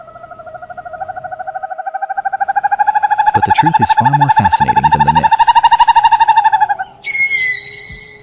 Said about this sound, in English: A harsh, raspy, blood-curdling shriek that tears through the silence